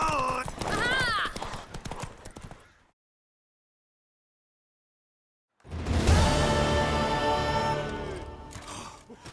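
Horse hooves clip-clop in The Witcher 3, rapid galloping beats with a neigh, cut off by a few seconds of silence before hoofbeats and horse sounds return loudly; voices speak over the first part.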